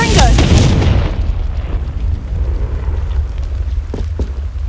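A spell blast from a Confringo charm in Hogwarts Legacy, fired near a cave entrance, bursts as a loud close boom at the start and settles into a long low rumble with scattered small crackles.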